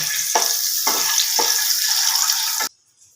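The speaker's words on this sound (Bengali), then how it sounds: "ডিমগুলো গ্যাসটা কম করে ভালো করে নাড়াচাড়া করে ভেজে নিতে হবে" Eggs fried in a pan over low gas and stirred around for a dhaba-style egg curry: a steady, close sizzle broken by three scraping stirs, then cutting off abruptly.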